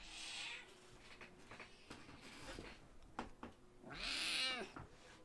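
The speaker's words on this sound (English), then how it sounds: "Hi, kitty cat." A cat meows indoors, giving two drawn-out, wavering caterwauls at the start and near the end with quieter shuffling and soft noises between them, all faint and close.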